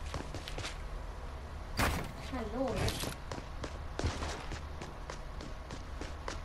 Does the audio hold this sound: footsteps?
yes